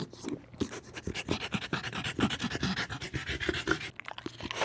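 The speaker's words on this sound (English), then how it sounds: "He keeps panting with his tongue hanging out." A dog panting rapidly in summer heat, quick rhythmic breaths repeating steadily and close by, with no talking.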